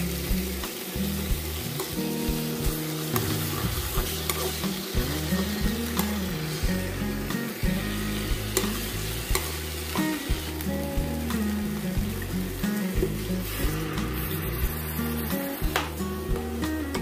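Spinach with minced pork and egg stir-fried in a pan, continuous sizzle broken by rhythmic scraping and stirring strokes, no voices.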